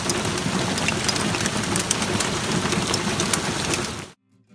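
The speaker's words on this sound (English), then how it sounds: "There's so much hail coming inside right now." A steady, dense patter of hail falls on an RV and tent campground along the Cascade Lakes Scenic Highway, a loud continuous rattle of pellets on hard surfaces that cuts off abruptly near the end.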